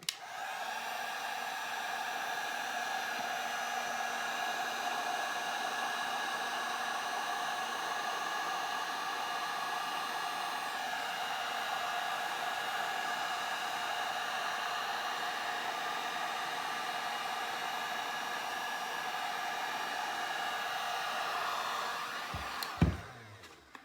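A heat gun blowing hot air over the edges of a gold leaf and resin tree piece, giving a loud, steady whooshing roar for over twenty seconds before it cuts off with a short click.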